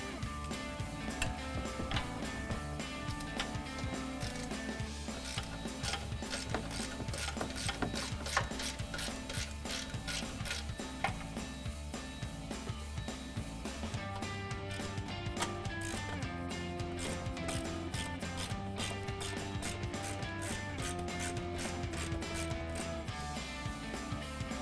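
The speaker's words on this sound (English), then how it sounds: "we'll go ahead and switch to our 1/2" drive ratchet. Now we're going to go ahead and finish loosening these up" A 1/2-inch drive ratchet loosens the upper control arm bolts on a 2009-2018 RAM 1500, giving a continuous run of fast, close metallic clicks against a steady mechanical background.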